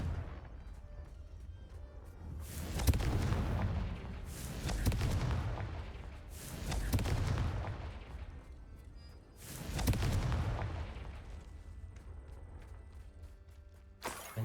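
Four heavy booming blasts of the Confringo fire spell in the Hogwarts Legacy video game, each a loud broad burst with a rumbling tail, spaced a few seconds apart over low ambient background.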